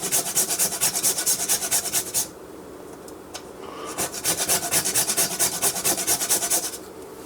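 A whole nutmeg is rasped rapidly against a kitchen grater in a quick, even back-and-forth rhythm, pausing briefly midway before the close, dry scraping resumes.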